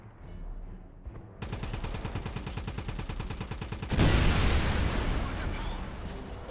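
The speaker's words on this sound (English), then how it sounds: "I do still love the particle cannon." Heavy weapon fire from the particle cannon in the Wolfenstein video game: a rapid, loud mechanical stream of repeating pulses, followed by a sudden roaring blast that lingers to the end.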